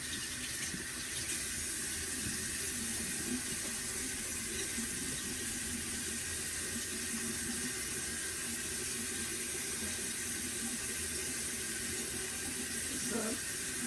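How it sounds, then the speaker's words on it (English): Water runs steadily from a tap into a sink for the whole stretch, a constant hiss with faint clinks and small bumps in a home bathroom. "I'm gonna have to run some water."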